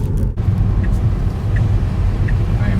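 Steady low rumble of a car rolling along a road, heard from inside the cabin, with continuous road and engine noise throughout and no clear talking.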